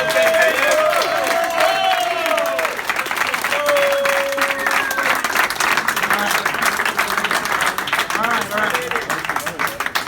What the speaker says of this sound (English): Let's give a round of applause for both